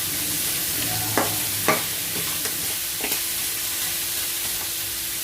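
Crab pieces fry in a hot pan with a steady broad sizzle, broken by a few sharp scrapes and clacks of stirring near the start and middle, close and moderately loud.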